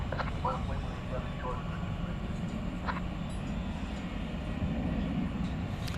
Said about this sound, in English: 757, which is operating on behalf of DHL